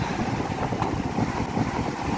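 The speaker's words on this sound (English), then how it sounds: "it's pretty windy though" Wind gusting at a beach near low tide, a steady rough rushing buffeting the microphone, loud and continuous with no voices.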